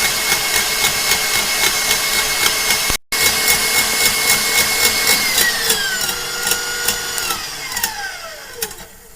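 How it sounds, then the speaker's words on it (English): Electric mixer whisking egg whites with cream of tartar on high for a soufflé, a steady close whirring drone with a brief cut, then the pitch dropping as the speed is lowered. "Take cream of tartar and whisk that on high."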